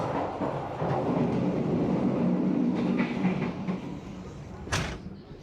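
Riding aboard an economy passenger train in Indonesia: steady rumbling of the carriage with rhythmic clickety-clack of the wheels, faint clunks, and a sharp metallic squeal or door sound near the end.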